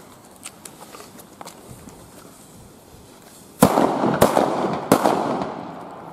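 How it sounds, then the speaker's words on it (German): A small ring of three leftover firecrackers set off together goes off in a few loud, sharp bangs close by, cracking in quick succession after several seconds of quiet outdoor ambience with faint footsteps. "Dann kommen wir jetzt zum Böllerkreis."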